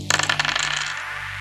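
Dice rattle and clatter across a hard surface in a quick burst of hard clicks that tumble and settle within about a second, close and fairly loud with no talk.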